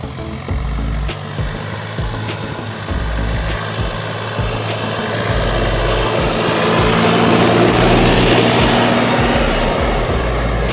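DTZ 354U tractor engine running steadily outdoors near a garden plot, a loud continuous low rumble and drone that swells slightly toward the end.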